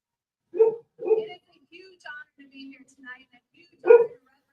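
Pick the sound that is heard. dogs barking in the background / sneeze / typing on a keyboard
dogs barking in the background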